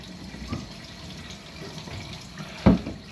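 Water runs from a slightly faulty tap into a sink inside a glamping pod, a steady broadband wash with a sharper splash near the end, close by and with no talking.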